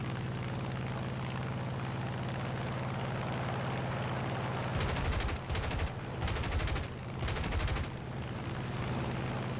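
Aircraft cannons and heavy machine guns rattle in War Thunder during a head-on pass between a P-47 and a P-51, several loud bursts of rapid fire cutting over a steady droning engine, then fading back to the engine hum.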